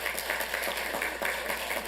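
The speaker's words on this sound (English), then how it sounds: "So let's give them a round of applause," Brief, fairly faint applause from the audience at a city council meeting, with rhythmic clapping bursts over a steady room hum lasting about two seconds.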